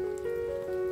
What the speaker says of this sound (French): je suis dans les jardins de Fourvière, bon il pleut